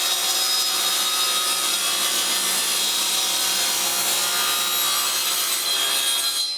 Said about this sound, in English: Then it's just a matter of cutting the waste away.